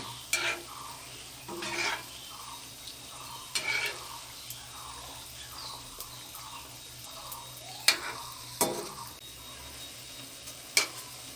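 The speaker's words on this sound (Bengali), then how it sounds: "এভাবেই আমি সব কয়েকটা বড়াই ভেজে নেব।" Bengali mango fritters (aamer bora) deep fry in hot oil in a village-style kitchen, a quiet steady sizzle under soft stirring and light scrapes of a utensil, with a few sharp knocks against the pan.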